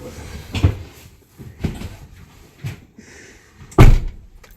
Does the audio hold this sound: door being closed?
yes